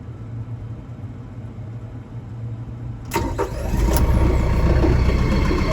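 A farm tractor's engine cranks briefly and catches about halfway through, settling into a loud, rough running rumble close by after a quiet stretch of low background hum.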